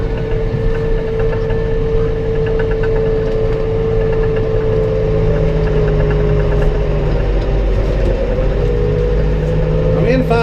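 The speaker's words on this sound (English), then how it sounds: "This tractor, 110 horsepower" A 110 horsepower tractor engine running steadily at a constant drone for the full length, loud and close, with a strong low rumble and a faint voice underneath.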